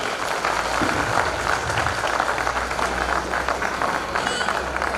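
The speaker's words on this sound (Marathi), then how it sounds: "त्यांच्या सगळ्यांसाठी सर्वांनी टाळ्या वाजवायच्या आहेत" Audience at a school annual function applauding, a steady dense wash of clapping throughout with crowd noise and some voices mixed in.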